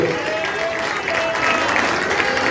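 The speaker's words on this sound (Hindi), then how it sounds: "ताली बजाके धन्यवाद दें प्रभु को।" A church congregation at a thanksgiving prayer service claps steadily and loudly throughout, a dense continuous wash of many hands filling the room.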